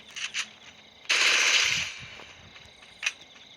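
Gunfire in a chicken shooting video game: a few short, sharp shots, then a loud sustained burst lasting under a second, then another brief shot, all close and without talk.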